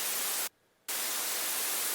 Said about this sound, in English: Next up, we have this white noise.